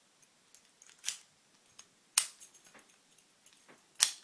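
Key working an American Series 1100 padlock: three sharp metallic clicks and snaps spaced about a second apart, with small rattles and scrapes between them, close up and quiet.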